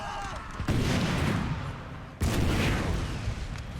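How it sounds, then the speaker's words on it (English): Artillery firing canister shot in the Napoleon Total War game, two heavy booming volleys about a second and a half apart, each followed by a loud rolling rumble of battle noise. "Oh, they are firing canister."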